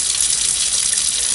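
Water rushes steadily from a laboratory faucet, a loud, constant hiss with no breaks and no voices.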